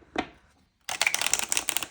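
Tarot cards are shuffled in a dense burst of riffling, flapping card noise close to the mic, following a short soft sound and a brief pause.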